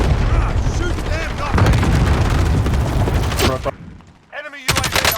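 Assault rifle fire in Call of Duty: Warzone (Modern Warfare, Season 6), loud bursts of gunshots running continuously under excited player chatter, with a short lull near the end before firing resumes.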